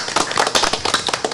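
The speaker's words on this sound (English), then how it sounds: "I think we all give him a round of applause." Scattered round of hand clapping from people at a city council meeting, a short burst of uneven, fairly close claps lasting just over a second.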